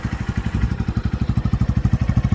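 A 2023 Honda XR150L single-cylinder motorcycle idles nearby outdoors, a fast, even thumping pulse with mechanical clatter, steady and unbroken with no voices.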